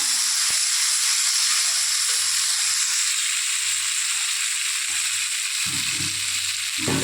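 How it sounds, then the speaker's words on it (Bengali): Potatoes and chickpeas fry in a pan with salt and turmeric, giving a constant close hiss of sizzling oil broken by a few soft low knocks of stirring near the end. "ছোলাটাও এর মধ্যে দিয়ে আমি ভাজা ভাজা করে নিলাম।"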